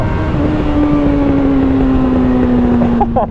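A 2003 Suzuki GSX-F 600 four-cylinder motorcycle engine revs steadily with a loud, continuous drone whose pitch holds nearly level, then drops away at the very end.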